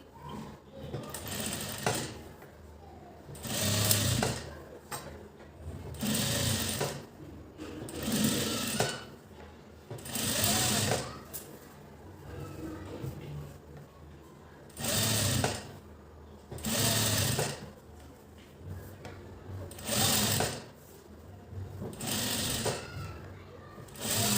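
A sewing machine stitches piping onto fabric in repeated loud, rapid bursts separated by brief pauses, while someone talks quietly between runs.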